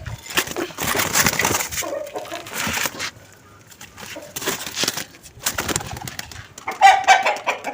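Pigeons are let out of their loft, with a busy mix of clucking calls, wing flutters and rustling at close range, rising and falling in bursts.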